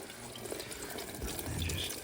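Water draining from a boiler valve straight into a bucket, a steady close splashing, trickling flow that swells slightly louder toward the end.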